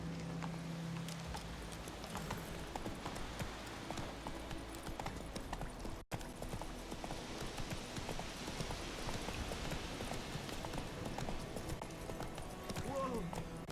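Hooves of the horse Roach in The Witcher 3 clopping rapidly in a gallop, a steady quick rhythm running throughout, with voices talking over it at times.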